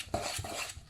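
Beaten egg and courgettes stirred together in a salad bowl, a few clinking, scraping strokes of a utensil against the bowl over about a second, close and fairly quiet.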